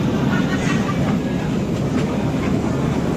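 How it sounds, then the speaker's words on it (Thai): A tourist ride train at New Land park in Suan Phueng rolls along with a continuous close rumble and faint rhythmic clatter, loud throughout the short stretch, with no talk. "เราอยู่ที่นิวแลนด์แล้วเราก็มานั่งรถไฟครับ"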